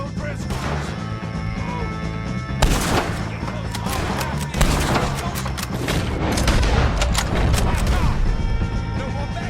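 Gunfire in Red Dead Redemption 2 during a fight with O'Driscolls, loud and dense bursts of shots and crashing impacts over a busy, sustained battle mix.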